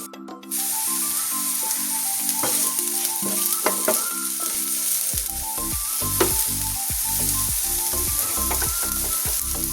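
Chillies and curry leaves sizzling loudly in hot oil in a pan for thoda curry, a continuous close hiss with stirring clatter and a steady tonal hum beneath.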